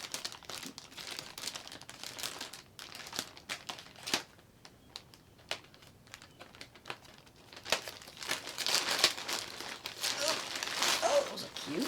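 Crinkling plastic with sharp snips and rustles, growing louder and denser toward the end, and a person speaking at times.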